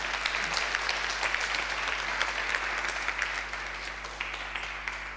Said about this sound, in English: Give him a clap of praise.